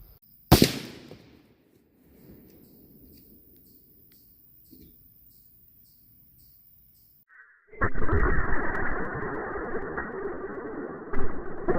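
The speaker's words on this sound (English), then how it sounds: "I'm going to shoot the ELD-X or the ELD-M through the shoulder blade" A 7mm Rem Mag rifle fires a single sharp, loud shot of a 162-grain ELD-M bullet into ballistics gel and a deer shoulder blade. The crack echoes and fades, and a loud burst of rushing noise follows several seconds later.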